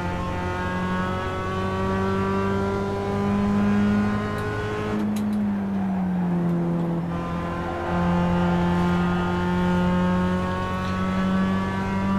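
Mazda MX-5 Cup race car on a victory lap at Summit Point in iRacing, the engine holding a steady mid-range drone with clear harmonics, dipping briefly as the driver lifts off the throttle before settling again.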